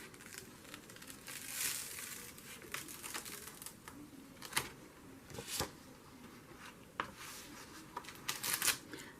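Sheets of junk mail paper being handled for gel plate printing, giving soft rustling and crinkling with a few sharper crisp rattles, close to the microphone and with no talking.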